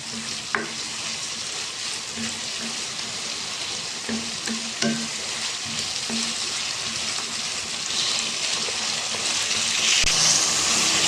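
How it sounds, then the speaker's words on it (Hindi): Chicken vegetable macaroni frying in a pan over a medium flame, giving a steady close sizzle with occasional stirring clicks and scrapes and no talking. "इसको 1 मिनट फ्राई कर लेते हैं।"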